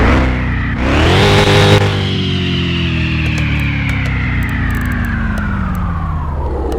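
A minivan engine in Car Mechanic Simulator 21 cranks and fires up with a loud burst, then revs and slowly winds down in pitch, a steady droning tone continuing alone afterward.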